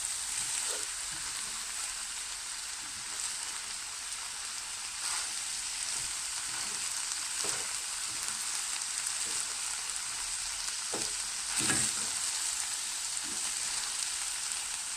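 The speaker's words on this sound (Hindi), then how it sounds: "अब एक अच्छा सा मिक्स देंगे इस तरह से हम पुलाव को" Dal gosht pulao being stirred in a pot, soft continuous scraping and sizzling with occasional faint clinks of the spoon, steady and low throughout.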